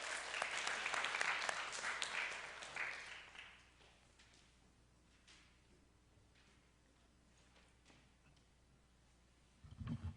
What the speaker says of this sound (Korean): 박수로 격려해 주시면 감사하겠습니다